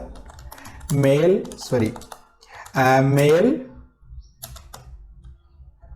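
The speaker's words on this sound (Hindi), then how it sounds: "तो देखो मैं कैसे लिखता हूं प्रॉम्प्ट" Keys on a computer keyboard clack as a prompt is typed, short close clicks scattered through the clip while someone talks over them in bursts.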